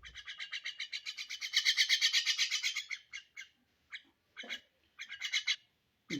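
A young myna bird calls close by with bursts of rapid, buzzy, pulsing chirps, first in a long run and then in shorter separated phrases, alone with no talking.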